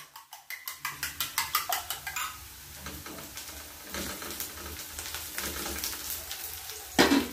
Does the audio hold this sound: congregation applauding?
no